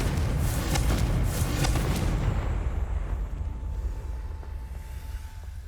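A Confringo explosive spell detonates in Hogwarts Legacy: a loud, rumbling blast with crackling debris that slowly dies away into a quiet hum.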